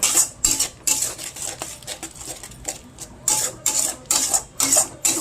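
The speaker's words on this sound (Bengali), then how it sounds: "কষিয়ে নেবো মশলাটা" Spice paste is stirred in a pan with a little added water, heard as rhythmic, close scraping strokes of a spoon against the pan with short gaps between them.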